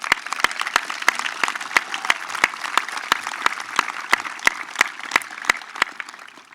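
A graduation audience claps for two retiring teachers, with several sharp, evenly spaced close claps standing out over a thinner spread of applause from the crowd.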